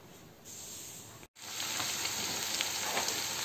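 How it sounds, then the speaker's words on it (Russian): Steady close sizzling and crackling of fish frying in a hot pan, a continuous hiss that briefly drops out and then resumes louder. "Смотрите, рыбку я обжарила."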